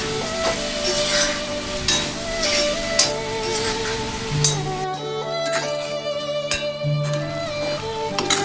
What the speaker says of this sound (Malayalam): ഇവയെല്ലാം കൂടെ ഒന്ന് യോജിക്കുന്നത് വരെ നമുക്ക് ഒന്ന് ഇളക്കി കൊടുക്കാം.